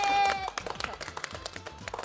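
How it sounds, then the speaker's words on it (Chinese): An audience on a TV cooking talk show claps for the guest, a short burst of scattered, uneven hand claps that starts after a brief sustained tone and thins toward the end. "来，掌声给他。"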